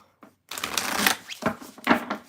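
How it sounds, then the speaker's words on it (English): Tarot cards shuffled by hand in a quiet room: a short riffle, then several papery bursts of cards sliding and slapping together, close and clear, with no talk. "All righty, I'm going to shuffle and we will move on to Virgo."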